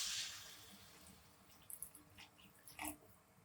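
Water poured into a pan of roasted vermicelli and vegetables, heard as a soft splashing pour with a hiss at the start and a few short gurgles and splashes toward the end, fairly quiet and with no talk.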